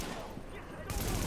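M4 rifle fire in the video game The Division, a quick burst of sharp, close shots that ends in a louder crack, mixed with game noise.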